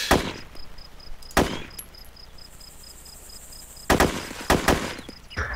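Gunfire in the military shooter game Arma: sharp, loud shots crack out in a quick pair at the start, then a tight cluster of bursts near the end, with a thin steady electronic whine running through the gaps.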